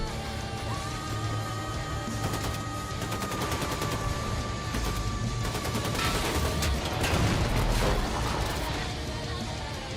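Rapid assault rifle fire in Wolfenstein 2: The New Colossus, sustained bursts of automatic shots crackling over a busy game soundscape with music-like tones, steady and loud throughout.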